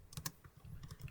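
Quick, faint key clicks come from someone typing on a computer keyboard while entering a network route, a short irregular burst of taps with no talking.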